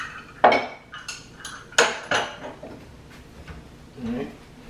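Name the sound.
getting a bowl out of the cabinet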